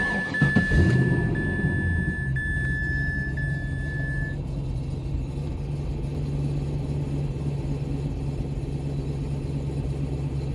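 An LS V8 swapped into a Mazda RX-8 cranks and fires up in a short burst, then settles into a steady, deep, rumbling idle up close, with a thin electronic tone sounding for the first few seconds.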